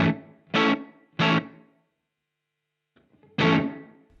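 Distorted electric guitar through an Iridium amp modeler with room reverb, three short strummed chords in quick succession, a pause, then one more ringing chord, loud and close with a short roomy tail.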